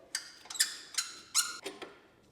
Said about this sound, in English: More squeaking from this E60 M5